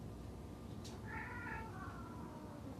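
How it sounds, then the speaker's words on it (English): A cat lets out a drawn-out, wavering meow, a short yowl that sounds like the start of a cat fight, heard alone over a low background hum. "We got a cat fight over here."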